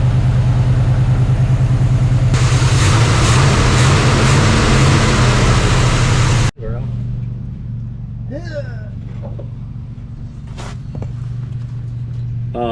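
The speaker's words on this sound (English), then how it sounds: "an engine that hasn't run for this long" A 1980s Chevrolet C10 pickup's engine, abandoned for 22 years and showing some blow-by, runs steadily and loud with a low, even idle drone, first revving rougher and fuller, then settling into a quieter idle under faint voices.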